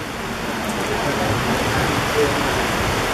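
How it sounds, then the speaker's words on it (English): Steady rain falls at an outdoor memorial unveiling in a park in Brookhaven, a dense, even hiss that fills the clip with no break and no voices. "You hear the rain?"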